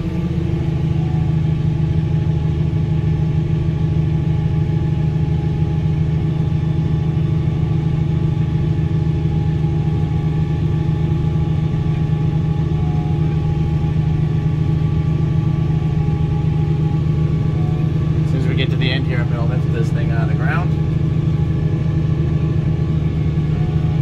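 A 1050 tractor engine works hard under load while pulling a tiller through a field, giving a loud, steady, continuous drone with a brief clatter of extra noise near the end.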